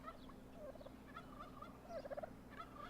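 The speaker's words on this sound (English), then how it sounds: "I think I'm hearing the turkeys." Turkeys in the farming game Farm Manager World gobble in short, rapid warbling bursts, faint and somewhat distant, repeating several times over a low ambient hum.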